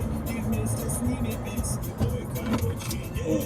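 Car driving along a rural secondary road in Bavaria, Germany, at about 90 km/h, a steady broadband engine and road rumble throughout with voices talking over it.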